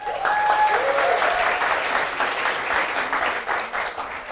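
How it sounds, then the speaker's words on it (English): A conference audience applauds a speaker being introduced, sustained, fairly loud clapping with a brief voice over it near the start, tapering slightly toward the end. "A big round of applause."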